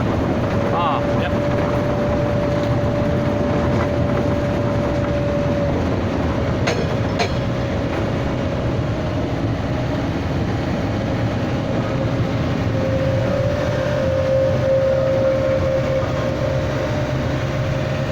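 A Portland cable tram runs along its rails in a steady, continuous rumble with a sustained tonal whine, close by and loud throughout, with voices faintly underneath.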